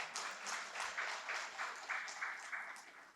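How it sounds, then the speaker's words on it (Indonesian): Audience at a Vesak ceremony, the Trisuci Waisakha Puja, claps in a rhythmic, fairly faint pattern, with distinct regular bursts of applause and no speech over it. "Tepuk tangan dulu."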